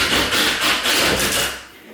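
A drill boring a hole through a wooden wall stud, a loud close grinding rasp in rhythmic surges that tapers off at the end.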